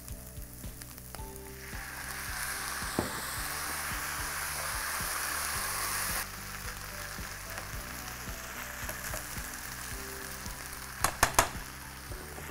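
Chickpeas and spices fry in a pan with a soft, steady sizzle that drops slightly in level partway through, punctuated by occasional stirring clatters and a few sharp knocks near the end.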